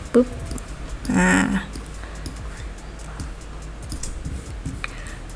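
A computer keyboard's Shift key is pressed during Adobe Illustrator drawing, giving a few faint, sharp clicks over a steady low hum, with a brief burst of voice near the start.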